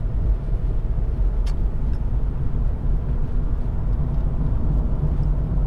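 A Lexus IS 250 2.5 SE saloon drives along with its engine pulling, a steady low in-cabin rumble and road noise, even and unbroken.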